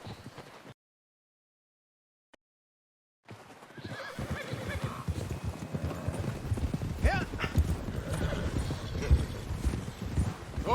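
In the Red Dead video game, a horse breaks into a gallop, its hooves clip-clopping in a fast, steady rhythm up close, with occasional whinnies. The ride follows a moment of near silence.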